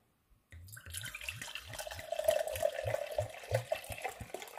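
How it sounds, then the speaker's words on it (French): Water being poured into a bowl for homemade sweetened condensed milk, a continuous close splashing and trickling stream that starts abruptly and swells in gurgling pulses. "Là, je mets un peu d'eau."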